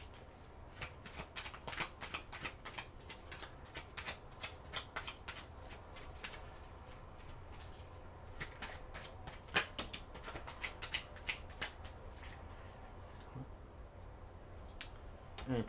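Tarot cards being shuffled by hand, a rapid run of crisp riffling snaps and flicks close by, fairly quiet and continuous with small pauses, no talking.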